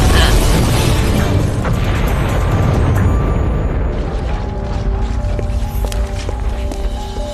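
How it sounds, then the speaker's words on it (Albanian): A loud cartoon magic explosion spell from a fairy animated battle: a dense, sustained roaring blast with crackling bursts that fades into ringing tonal shimmer and chimes, with no talk over it. "Shpërthimi Tekna"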